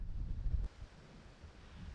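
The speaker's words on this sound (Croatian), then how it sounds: "Evo samo da vidite vjetar kak puše. Baš je neki jaki vjetar." Strong wind gusts buffet the microphone at the pyramid on the Ravna gora summit, 686 m, as a heavy low rumble that eases off to a steadier rush partway through, with no voices.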